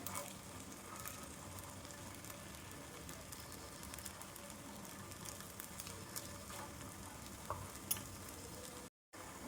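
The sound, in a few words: chicken wheat dosa frying on a pan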